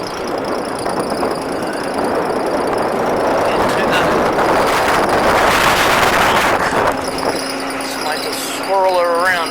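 A tractor engine runs in low gear with a loud, steady mechanical rumble and wind buffeting the microphone, ending with a rising whine near the finish.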